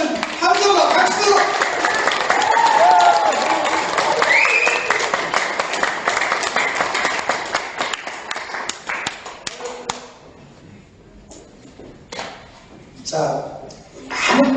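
Applause and cheering from a seminar audience at a Korean business lecture for restaurant owners, dense clapping sustained for about ten seconds before thinning into scattered claps and a final short burst, with voices mixed in.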